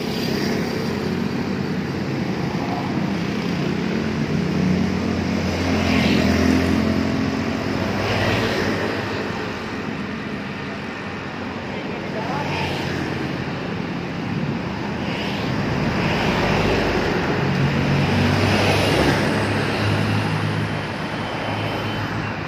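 A Budiman intercity bus drives along the road at Nagreg at night. Its engine and tyre roar makes a steady, fairly loud rumble that swells and eases slightly amid surrounding traffic, with no talking.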